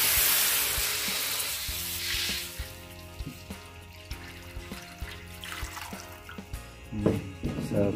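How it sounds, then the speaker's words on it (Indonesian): Water poured into a hot pan while cooking a sambal sauce for cireng sets off a loud, broad sizzle that fades over the first seconds, followed by lighter scraping and tapping from stirring. "Terus kita tuangkan air semuanya."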